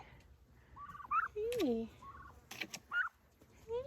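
Turkeys kept in a garden give several short, wavering gobbles and calls close by, spaced irregularly, while a person speaks softly to them between the calls.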